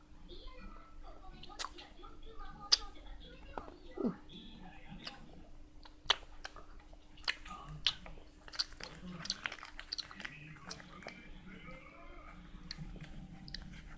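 Soft, close crunching and clicking of chocolate being chewed, irregular bites over a low steady hum, with no talking during the chewing.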